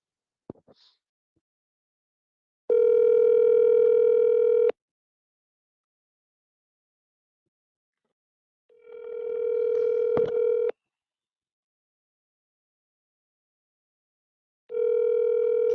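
A telephone dial tone sounds in three steady, loud bursts of about two seconds each, separated by silence, while calls are placed.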